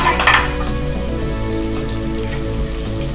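Onions and tomatoes cook in a pan for a Thanjavur-style fish curry, giving a steady close sizzle and simmer with a brief louder crackle near the start and no talking.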